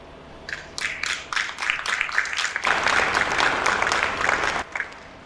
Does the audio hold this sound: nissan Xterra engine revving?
no